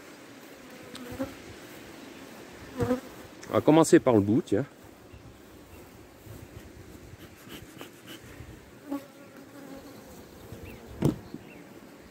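Honeybees buzzing around beehives in the high mountains, a steady insect drone with a louder burst of close buzzing near the middle, while someone speaks French nearby.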